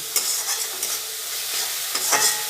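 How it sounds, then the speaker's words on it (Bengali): Thick masala spice paste frying in a pan as a spoon scrapes and stirs it, giving a steady close sizzle broken by several sharp scraping strokes, with no voices. "এবার মশলাটাকে ভালো করে কষিয়ে নেব"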